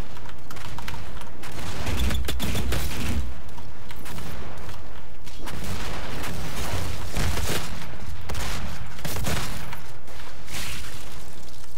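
Rapid explosive bursts and booms from rocket launchers going off in a DOOM multiplayer match, loud and dense with overlapping blasts and mechanical clanks throughout, no talking.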